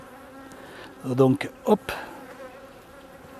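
Honeybees buzz in a steady low drone around an open beehive frame during a hive inspection, with a few louder bursts as bees fly close; a voice speaks briefly in French.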